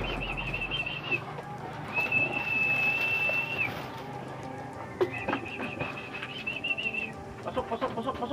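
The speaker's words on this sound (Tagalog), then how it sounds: "Guys, may ibon na tayo guys." Pigeon arriving at a loft during pigeon training in Castilla, Sorsogon: wing flaps and rustling near the microphone, mixed with whistled calls and soft vocal coaxing in the background.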